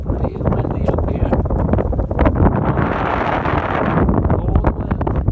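Loud, steady wind roars across the microphone at a yacht harbor on a cold day, gusting throughout with brief voices mixed in.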